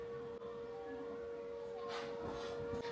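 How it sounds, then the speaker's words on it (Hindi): A steady, distant civil defense siren drones on one sustained tone throughout during a mock drill, faint beneath outdoor background noise. "तो आप सुन सकते हैं सायरन बज रहा है अभी"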